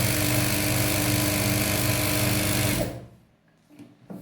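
A sewing machine stitches fabric pieces together in a beginner lesson, whirring loudly and steadily for about three seconds before stopping abruptly, followed by faint handling noises.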